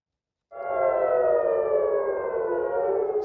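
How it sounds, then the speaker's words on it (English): An air raid siren in Israel during rocket fire starts abruptly and holds a loud, steady wailing tone that slowly drifts downward in pitch, heard alone without voices. "Sirens rang in the new year in Israel as Hamas fired rockets."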